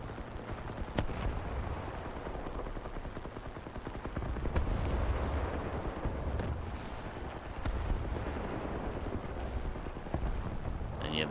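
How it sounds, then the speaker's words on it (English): An anti-aircraft gun in the naval game War Thunder fires steady thudding shots under a constant rumbling roar of sea and engine, the rhythm continuous and mid-distance throughout. "Anti-aircraft gun."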